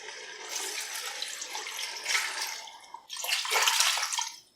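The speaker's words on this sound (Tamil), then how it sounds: "நான் 6 கப்பு தண்ணி சேர்த்துருக்கேன்" Water pours in a steady rush into a cooking pot holding chicken and basmati rice, splashing loudly near the mic with a brief pause before a heavier second pour.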